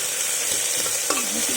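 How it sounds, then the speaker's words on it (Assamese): Oil hisses and crackles steadily in a kadai wok as food fries, with a brief scrape of stirring near the end and no voices. "কেৰাহী বহালোঁ, তেল দিলোঁ,"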